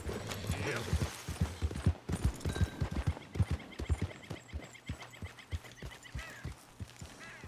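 Steady clip-clop of a video game horse's hooves trotting close by, a rhythmic series of thuds with some mechanical clatter in the background.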